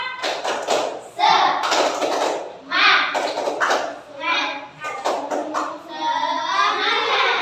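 A group of children in a classroom performs the rhythmic 'tepuk semangat' spirit clap. Loud patterned hand claps and taps are mixed with energetic chanting voices in several bursts, with talking throughout.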